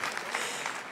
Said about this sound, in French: S'il vous plaît, on peut l'applaudir, parce qu'il a beaucoup souffert avec moi.